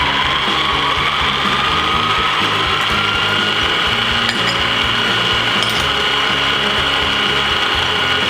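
Stand mixer slowly kneading cinnamon roll dough as the flour works in, a steady mechanical gear hum with a rhythmic clicking grind, close and constant, no voices.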